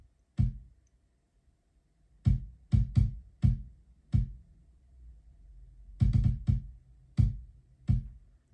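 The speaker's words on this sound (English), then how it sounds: "And then I recorded in some simple kicks." A simple programmed kick drum pattern from MPC software thumps alone: about a dozen short, low, dry hits in an uneven rhythm, with pauses between the groups.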